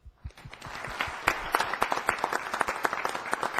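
Clapping at a city council meeting honoring school award winners starts with a few scattered claps, then builds into a steady, fairly close round of applause from the seated audience.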